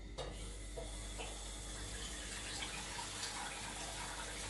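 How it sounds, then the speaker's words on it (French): Water pours steadily onto chicken legs and vegetables in a pot, a continuous close rushing splash filling the whole moment. "j'avais oublié de dire qu'il fallait mettre un peu d'eau aussi"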